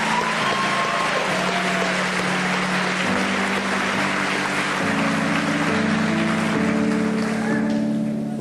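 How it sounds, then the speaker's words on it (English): Sustained audience applause at the Lakeview Jr High graduation ceremony in 2002: a dense, steady wash of clapping that fills the hall without a break, with a faint tonal hum running underneath. "Achut Paturi, Jonathan Pena, may we have a round of applause, please."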